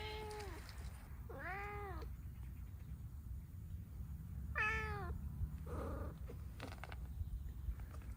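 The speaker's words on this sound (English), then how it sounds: "This is our barn cat, Tom." A barn cat meows in a patio setting in the morning, with two clear drawn-out meows and a shorter third call over steady low background noise.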